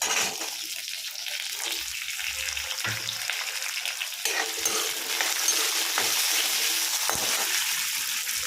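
Shallots, ginger, garlic and curry leaves fry in a pan with a continuous close sizzle, interrupted by intermittent scraping stirs and a few sharp clinks from a utensil against the pan, with no talking.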